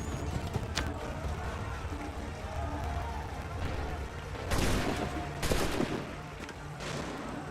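A gunfire volley rings out in the Assassin's Creed III video game, with loud bursts of massed musket-style shots over continuous battle noise and shouting voices.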